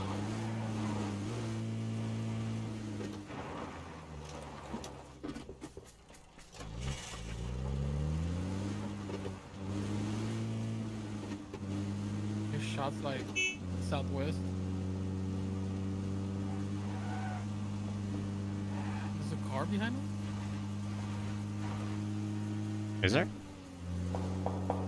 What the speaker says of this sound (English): Sometimes the noise of the UAZ doubles up.